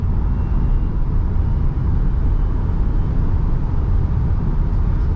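A 2023 Tesla Model Y rear-wheel-drive with LFP battery accelerates at full throttle, producing a loud, steady roar of road and wind noise with a faint electric whine inside the cabin.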